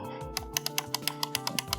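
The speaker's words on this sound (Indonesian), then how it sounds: "kalau mouse gaming agak tak tak tak tak" Logitech gaming mouse buttons clicked in a fast even series of sharp, bright clicks, close and fairly loud, with no voices.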